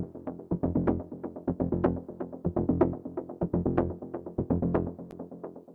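A driving synth bassline layer in rapid, rhythmic sixteenth-note plucks rolls along steadily on its own, moderately loud with a throbbing groove.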